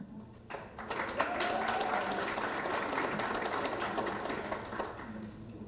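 Audience applause at an awards ceremony in Grand Cayman, a dense, sustained patter of many hands that swells quickly and holds steady for several seconds at moderate volume, without speech.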